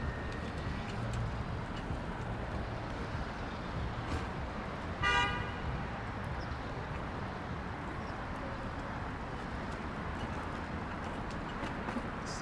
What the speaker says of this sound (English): That's a lot of traffic.